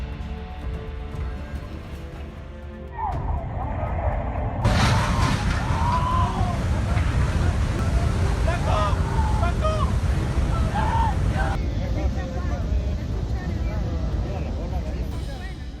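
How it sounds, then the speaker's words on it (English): Heavy ocean surf pounds around a cargo ship at sea in massive waves, a loud continuous roar with wind noise and crashing water that swells sharply after a few seconds and stays dense throughout. "a cargo ship battling massive waves rocking like a toy boat"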